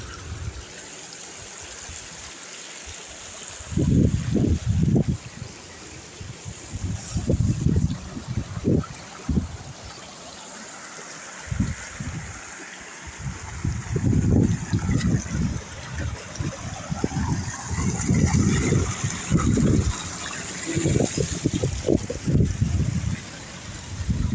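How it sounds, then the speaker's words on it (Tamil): Water from a pond trickles and splashes over rocks in uneven bursts, a continuous babbling flow with a steady hiss behind it, fairly close. "இங்கால குளத்திலிருந்து வர நீர் சல சல சல சல"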